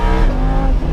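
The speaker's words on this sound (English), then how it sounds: "That exhaust makes up for it." Lamborghini Huracan exhaust note under way, a loud, continuous, buzzy engine drone with strong harmonics that holds steady throughout, heard close with no talk.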